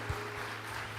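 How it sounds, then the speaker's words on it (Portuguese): A church congregation at a graduation ceremony claps in a continuous wash of applause that stays steady from start to finish. "Pode aplaudir ao Senhor"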